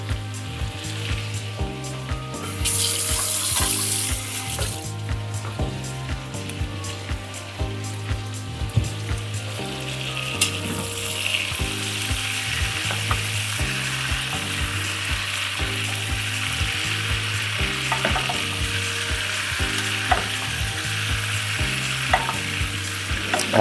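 Steak fries in a hot pan with melting butter, giving a continuous, close sizzle and crackle with occasional pops that holds steady throughout.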